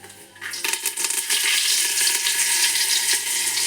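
Curry leaves crackling as they hit hot coconut oil and ghee with cumin, for Mangalorean chicken sukka, a sharp hiss bursting up and settling into a loud continuous sizzle with small pops, close and alone.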